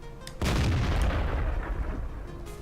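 A tank cannon in Garry's Mod with ACF weapons fires one sudden, loud, deep boom that rolls on as a long rumbling blast, heard up close and alone.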